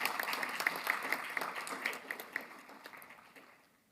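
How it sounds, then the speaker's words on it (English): Applause from a conference audience closing an inclusive education panel, fairly faint clapping that thins out and fades away over a few seconds. "let's give him a round of applause."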